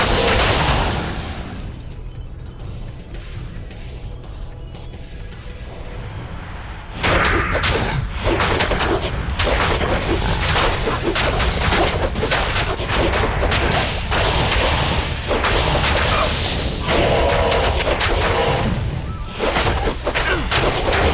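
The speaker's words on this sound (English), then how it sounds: "At least we got some fireworks going with the Bone Spear procs, Holy Bolts from Laying of Hands" Bone Spear and Holy Bolt spell effects in Diablo II fire off in a dense, loud barrage of crackling blasts and booms, a quieter rumbling stretch giving way to continuous rapid impacts with no voice over them.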